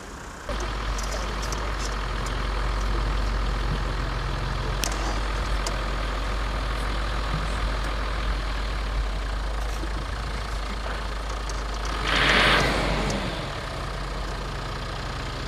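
A safari vehicle's engine idles in the open at Amboseli, Kenya, with a steady low rumble running close and constant throughout, swelling briefly near the end.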